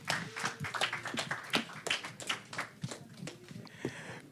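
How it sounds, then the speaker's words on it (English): An online audience claps for a guest being introduced, a fairly quiet, scattered patter of hand claps with uneven bursts rather than a full roar. "Give a round of applause to Ore."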